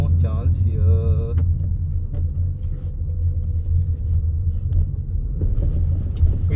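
A Honda Elevate cruising in sixth gear gives a steady low engine and road rumble inside the cabin, with a few brief chimes and clicks over the drone.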